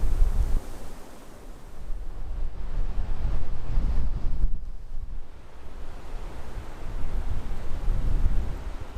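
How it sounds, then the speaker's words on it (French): Strong high-altitude mountain wind on Vitosha near Sofia, Bulgaria, gusting and rumbling across the microphone, surging and easing in waves, loud and close with no voices. "le petit vent là d'altitude là, ça picote les gencives"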